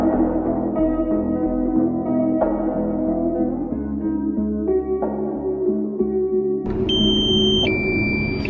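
A camera drone's low-battery warning beeps during an aerial photography job, heard as two clear electronic tones near the end, over a steady broadband hum.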